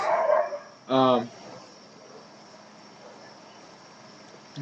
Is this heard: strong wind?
no